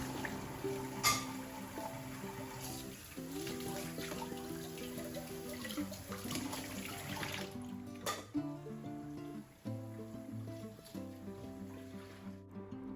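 Dishes are washed by hand in a kitchen sink under a running tap, with a soft continuous water stream and intermittent faint clinks and knocks.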